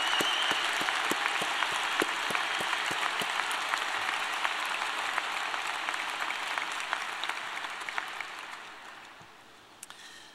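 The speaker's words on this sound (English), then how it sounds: "Let's give them a round of applause" A round of applause at a Wharton undergraduate graduation ceremony indoors, steady crowd clapping that starts strong and gradually fades out over the last few seconds.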